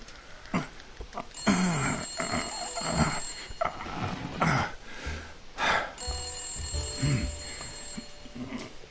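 A telephone rings repeatedly in the Blacksad detective video game on PS4, the bell tones recurring at a moderate level amid other game sounds and noises.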